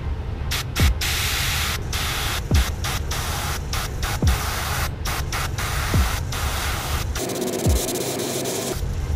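A continuous hissing airbrush spraying black paint on a crankbait lure, close and steady, broken by short pauses and soft low clicks, with no one speaking.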